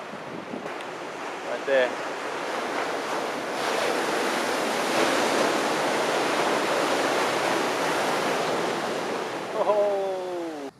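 Heavy surf breaks on a steep rocky shoreline in gale conditions, a loud continuous roar of crashing water with gusting wind buffeting the microphone, and brief voices heard at the start and near the end.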